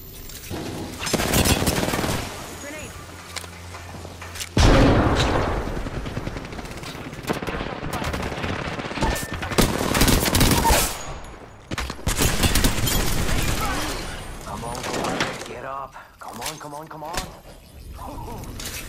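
Bursts of automatic and single gunfire from an online shooter game crack in rapid clusters with loud, sharp onsets. Excited players talk and shout over and between the shots.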